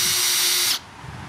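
A Makita 40V HP001G drill in screw mode at clutch setting 1 whirs loudly and close for under a second, then the motor cuts off abruptly, leaving a quiet low hum.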